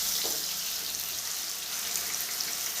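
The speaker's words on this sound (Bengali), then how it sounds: "আলুটা হালকা হালকা করে ভেজে নিই, ওই 30 সেকেন্ড মতন ভাজা হোক" Potatoes frying lightly in oil for a mixed vegetable dish give off a steady, even sizzle and hiss that stays close and unbroken throughout, with no voices.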